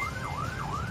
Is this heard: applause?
no